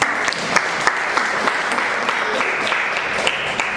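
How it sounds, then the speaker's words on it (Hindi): Loud, sustained applause from a church congregation fills the space, a dense, even wash of many hands clapping with a few sharper claps standing out. "जोरदार ताली से धन्यवाद देते हैं।"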